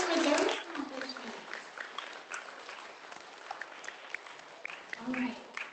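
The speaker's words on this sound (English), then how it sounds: "big round of applause for their accomplishment" An audience at a 3rd grade awards ceremony bursts into applause for a class, loud at first and then thinning into scattered claps and murmuring voices before a short swell near the end.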